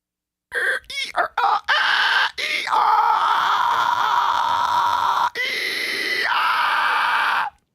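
A voice mimics a dial-up modem handshake: a run of short chirps and beeps, then long sustained screeching tones with abrupt shifts, loud and close.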